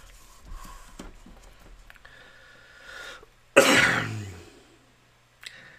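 A single loud, harsh cough bursts out and trails off, preceded by soft rustling and faint background noise.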